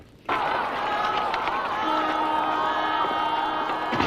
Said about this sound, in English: There's no way through the crowd, General Tadya.